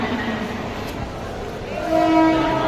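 A Mumbai local train at Andheri station rumbles steadily close by, with a rising roar and sustained tonal whine from the horn or brakes toward the end, loud and alone.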